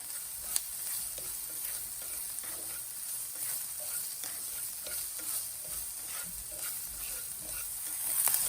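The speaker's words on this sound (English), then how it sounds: "Add the shrimp and continue cooking for about 6 to 7 more minutes." Onions and shrimp fry and sizzle in a pan, a steady soft hiss with occasional light stirring scrapes from a rubber spatula, close and fairly quiet, with no talking.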